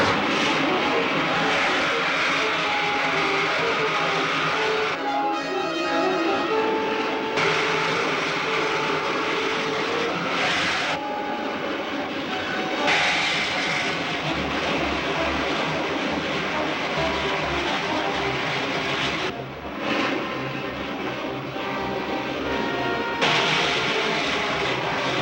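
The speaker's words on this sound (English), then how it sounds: "Fire main jets." Rocket ship main jets firing as a 1952 serial film sound effect: a loud, continuous roaring rumble with engine-like drone that holds steady throughout, with small surges and dips, no talk over it.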